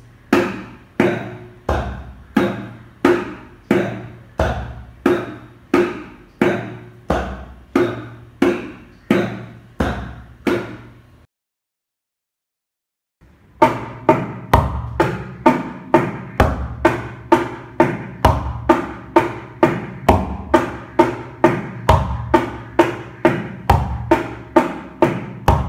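A mridangam plays the four-stroke kitta takka subdivision as a steady stream of crisp, evenly spaced drum strokes, briefly stopping for a short silence and then resuming at a quicker pace, heard up close with no talk.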